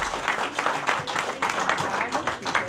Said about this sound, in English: Let's give Auntie Shanti a round of applause.